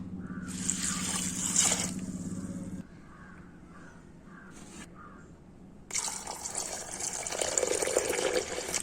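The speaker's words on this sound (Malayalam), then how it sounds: "ഇനി ഇതിലേക്ക് വെള്ളം ഒഴിച്ചു കൊടുക്കാം." Water pours steadily into a cooking pot over chili, turmeric and cowpeas for a curry, a running splash that pauses briefly with faint drips, then resumes louder and fuller.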